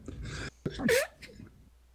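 A single sharp sneeze bursts out close to the microphone during a casual live stream, with brief voices and breathy sounds just before it.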